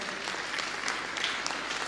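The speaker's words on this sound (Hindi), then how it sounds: "जोरदार फिर से तालियां बजा दें एक बार।" Brief burst of dense audience clapping in honour of a speaker at a health talk, steady and moderately loud.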